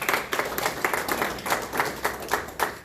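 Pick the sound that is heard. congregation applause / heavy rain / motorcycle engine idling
congregation applause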